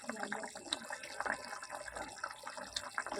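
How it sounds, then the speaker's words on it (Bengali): Tengra fish curry bubbling and simmering in a pot, with soft watery bubbling and small irregular pops throughout, close and fairly faint. "ঝোলটা আমার ফুটে গেছে, মাছগুলোও সিদ্ধ হয়ে আসছে"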